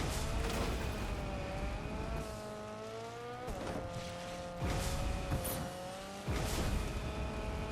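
A car revs and drives in Fortnite Chapter 6 zero build, the engine note rising and shifting with a few sharp bursts and tire noise across the stretch, loud and close.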